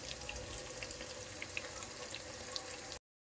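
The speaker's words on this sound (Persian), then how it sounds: "کتلت ها رو با دستم شکل میدم و داخل مایتابه سرخش میکنم" Chicken and meat cutlets frying in oil in a pan, a soft continuous sizzle with small crackling pops, fairly quiet and close, ending abruptly after a few seconds.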